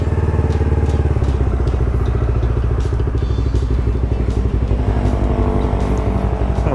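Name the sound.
motorcycle engine idling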